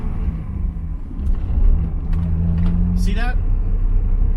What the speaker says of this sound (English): What we're going to do here, we're doing our first double clutch.